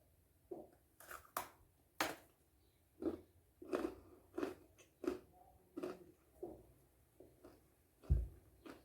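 Close, crisp crunching and chewing of a no-bake chocolate cluster: a sharp bite, then a steady run of about a dozen rhythmic crunchy chews, with no talking.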